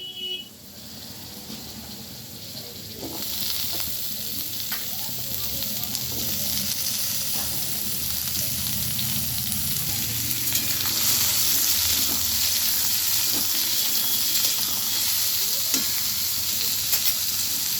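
Potatoes are added to a pan where papaya has already fried, setting off a loud, continuous sizzle that swells after the first few seconds, with stirring scrapes and no voice.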